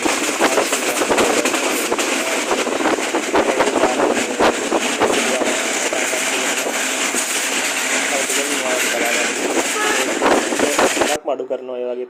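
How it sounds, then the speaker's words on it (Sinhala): Udaya Devi express train rolling along the rails near Jayantipura, a loud continuous roar with rhythmic clatter of wheels and wind buffeting the microphone, cutting off abruptly near the end. "තව විනාඩි 6කින් 7කින් වගේ හිඟුරක්ගොඩ දුම්රිය පොළට කෝච්චිය ළඟා වෙනවා"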